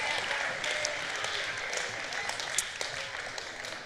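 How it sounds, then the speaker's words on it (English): Audience at a school chapel service applauding performers back to their seats, a fairly soft, continuous wash of many hands clapping at some distance. "will you clap these guys back to their seats?"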